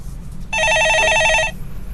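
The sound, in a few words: telephone ringing on a radio call-in show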